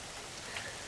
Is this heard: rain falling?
yes